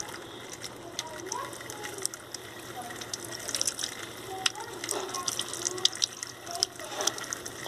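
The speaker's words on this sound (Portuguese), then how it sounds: "Vamos ver como é que ela vai reagir com a água." Tap water runs steadily into a sink during a Pinscher puppy's first bath, a continuous mid-level splashing wash with faint voices and small movements in the background.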